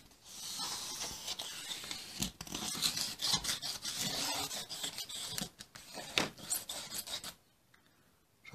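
Hard foam rubbed back and forth over N gauge model railway rails and points, giving a steady close rasping scrub with brief pauses, then a quieter stretch near the end.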